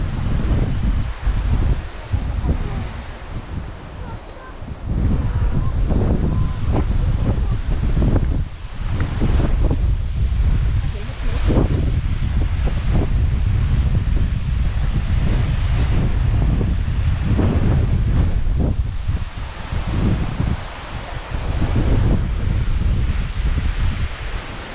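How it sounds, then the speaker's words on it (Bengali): Strong wind roars across the Deomali hilltop in Koraput and buffets the microphone in heavy, continuous gusts that swell and dip, loud and close, with no talking. "হাওয়া চলছে প্রচুর।"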